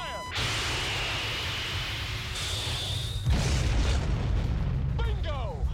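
A missile launches during an aerial dogfight in a 1986 fighter-jet film, a loud sustained roaring whoosh over continuous jet engine noise that swells partway through, mixed with film sound effects.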